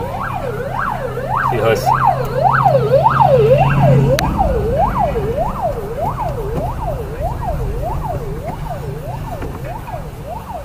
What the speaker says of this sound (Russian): Еще одна пожарная, еще одна машина.